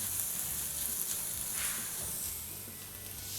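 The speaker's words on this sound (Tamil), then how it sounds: "இஞ்சி பூண்டு விழுது சேர்த்துடலாம். இதையும் நல்லா வதக்கிடலாம்." Ginger garlic paste sautés in a pan, giving a steady, soft sizzle and hiss that carries on evenly throughout with no voices.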